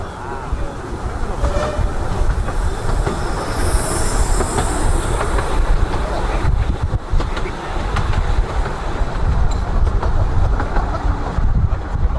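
A narrow gauge heritage railway train runs along the track at a gala on a Cumbrian line, with a steady, loud rumble of wheels and carriages throughout and a brief high squeal partway through.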